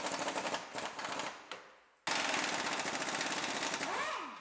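Subframe bolts coming off a cheap Pontiac Grand Am with an impact gun: loud, close, rapid hammering bursts, a brief pause, then a long sustained rattling run that ends in a falling whine.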